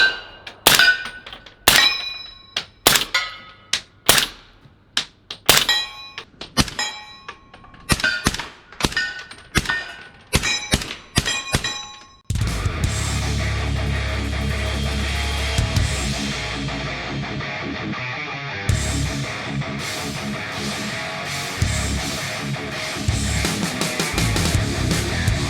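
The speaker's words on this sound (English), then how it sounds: "Let's get some rounds down range" A suppressed 300 Blackout rifle fires a string of sharp, clanging shots downrange in an irregular rhythm. A dense, continuous noise follows that masks the later shots.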